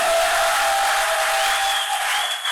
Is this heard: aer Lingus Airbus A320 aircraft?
no